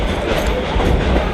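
The Dollywood Express train runs on rails in Pigeon Forge, Tennessee, giving a loud, close, steady rumble with clattering wheels and no pause.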